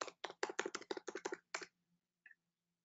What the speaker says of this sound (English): I've typed in the password.